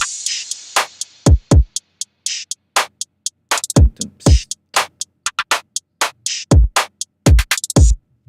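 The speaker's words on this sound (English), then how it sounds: "All right, so those are all the elements for the drums, and then I have this crash at the beginning" Trap beat drum pattern of sharp percussion hits, hi-hats and booming kicks, opened by a crash cymbal, playing in a crisp, evenly spaced rhythm with no voices.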